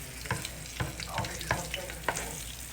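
Patties fry in a skillet with a steady sizzle, broken by several soft clicks and scrapes from stirring, close up and with no voices.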